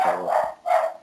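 Two sharp, high yaps from a nearby dog in quick succession, loud and alone.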